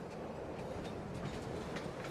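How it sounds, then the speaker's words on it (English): A train arriving in Farming Simulator 22, a steady rumbling roll with faint clickety-clack and light squeal, continuous and moderately loud, no talk. "Here comes our train."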